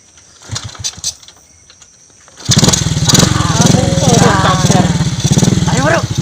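A stalled motorbike engine catches after a quiet stretch of scattered sounds and sputters into a loud, rough, steady idle, with voices talking over it.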